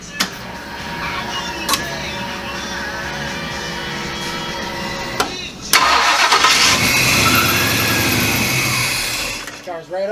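A 1967 Ford Mustang fastback engine fires up after a cranking whir, catching at once and settling into a loud, rough running note close by, preceded by a few clicks and background clatter.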